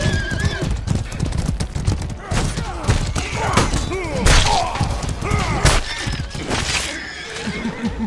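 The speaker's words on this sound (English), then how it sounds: "There's a lot of horses out here dealing with them." Horses in a medieval Mordhau Frontline battle on the Crossroads map, neighing and whinnying repeatedly over dense hoofbeats, thuds and combat clatter, with occasional voices mixed in.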